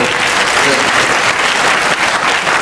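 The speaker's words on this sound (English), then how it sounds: "a round of applause for" An audience at a university inaugural lecture claps in a sustained, dense round of applause that holds steady and loud from start to finish.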